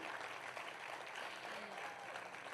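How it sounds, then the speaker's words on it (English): An audience at a L'Oréal Paris Stand Up event against street harassment applauds a dancer, a soft, even spread of clapping with no breaks, heard from some distance. "Big round of applause for her too"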